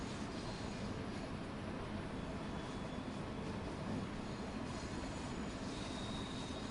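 A heavy train slows in the video game Train Sim World 2, giving a faint, steady rumbling rail noise with a thin squeal and no speech.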